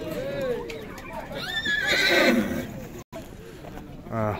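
Young colts and mares, about two years old, neigh nearby. Several high, wavering whinnies overlap, with a brief hoof clip-clop at the end.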